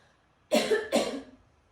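Two quick, close coughs in a row, sharp and breathy, with nothing else around them.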